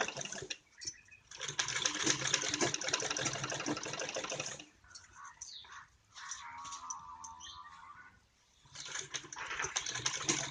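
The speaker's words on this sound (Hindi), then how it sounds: "ये हमने गले पे सिलाई लगा के तैयार कर ली है" A sewing machine stitches a decorative necklace-style neckline on a garment, running in several close, busy bursts separated by brief pauses.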